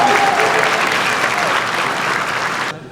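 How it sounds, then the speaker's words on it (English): Applause at a high school alumni hall of fame awards banquet, a loud sustained round of clapping from the room that ends abruptly, with faint speech mixed in. "Let's give them a massive round of applause"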